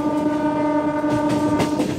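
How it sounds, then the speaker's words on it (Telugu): A MEMU Express train pulls into Annavaram station, sounding a loud, sustained horn over the rolling rumble and rattle of its carriages, with no one speaking. "అన్నవరం రైల్వే స్టేషన్కి మన ట్రైన్ 6 గంటల 55 నిమిషాలకి అయితే వచ్చింది"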